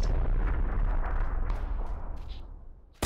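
A grenade blast in the PUBG battle game, a loud booming rumble that fills the clip and slowly decays, with a sharp new burst at the very end.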